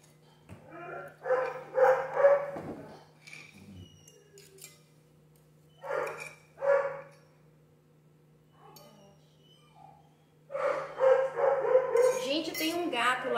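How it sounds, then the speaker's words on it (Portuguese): A dog barks repeatedly at a cat by a backyard pool, sending out clusters of sharp, fairly close barks and yips separated by brief pauses. "Deixa eu só ver o que o Dante tá latindo aqui"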